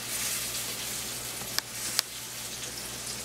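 A beef roast sears in a hot skillet, giving a steady, close sizzle and spit of frying with two brief sharp pops partway through, no voices.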